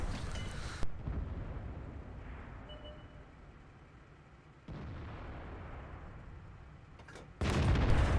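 A tank cannon in World of Tanks, fired from a VK 28.01 on the Airfield map, lets off a couple of heavy booming shots a few seconds apart over a steady engine rumble.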